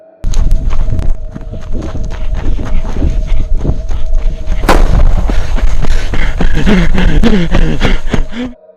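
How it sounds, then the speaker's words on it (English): Outdoors near a gate, a loud sharp gunshot cracks midway through amid continuous crunching footsteps and scuffing noises, with rustling and movement continuing afterward. "A gun goes off in the distance."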